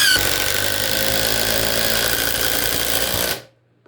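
Ridgid three-speed brushless impact driver sinking a 5-inch screw into wood: a loud, close, continuous rattling hammer-drive for about three seconds, then an abrupt stop to near silence.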